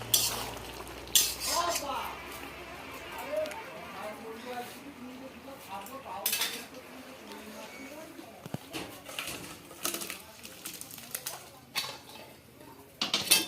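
Prawn ghonto with Malabar spinach seeds is stirred and fried in a kadai, metal spoon clanks and scrapes against the pan over a faint sizzle, with a voice talking at points.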